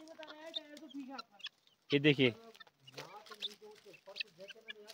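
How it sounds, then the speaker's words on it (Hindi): Chinese hens clucking while foraging outdoors in snowy Kumaon hills, several soft clucks and a louder burst of calls close by, with someone talking over them. "तो यहाँ पर आंटी जी की चाइनीज मुर्गियाँ हैं"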